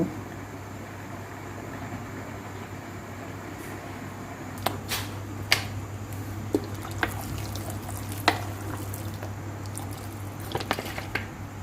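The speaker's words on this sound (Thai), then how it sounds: "นี่เราออกมาคั่วแล้วให้มันอ่อน" Young bamboo shoots dry-roasting in a pan give off a steady low hiss and sizzle, with sharp clicks and taps from stirring scattered through the second half.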